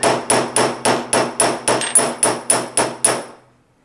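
A hammer strikes the end of a metal stamped ring to flatten it, about eleven sharp, ringing metallic blows in a steady quick rhythm, close and loud, the last one fading out.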